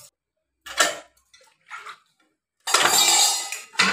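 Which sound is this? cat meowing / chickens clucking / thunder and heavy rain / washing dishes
washing dishes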